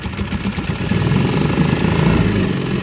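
A 2012 Honda four-stroke outboard motor runs steadily up close, its loud, even engine drone holding throughout without pauses or voices.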